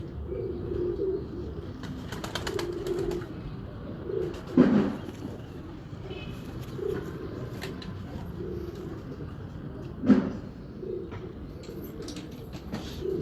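Pigeons coo softly in a loft with a Sialkot pigeon and quail keeper, low murmuring calls rising twice to louder coos over a steady background hum.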